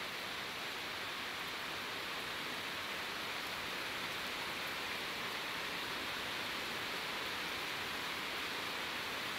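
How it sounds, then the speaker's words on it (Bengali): Very heavy rain pours down on a flooded street, a dense, unbroken roar of hiss and spatter that stays loud and even throughout with no voices. "এই যে দেখছেন কি ভারী বৃষ্টি হচ্ছে, কিন্তু খুবই ভারী"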